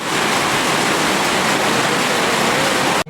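Heavy typhoon rain pours down in a dense, continuous roar, loud and unbroken, with no voices.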